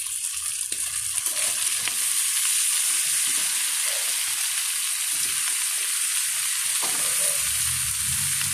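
Chayote, carrots, baguio beans and cauliflower frying in a pan for butter chopsuey, a steady bright sizzle throughout with occasional soft stirring knocks underneath.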